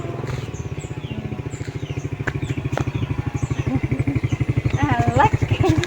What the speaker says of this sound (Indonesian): Jalan-jalan tapi numpak motor guys.